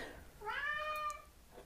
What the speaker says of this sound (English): You want the cat? The cat should come in.